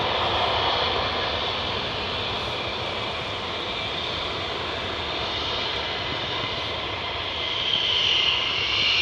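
Fighter jets idle with engines running during hot-pit refuelling at RAF Lakenheath, a constant loud whine and roar holding steady throughout with a sharp high tone rising near the end.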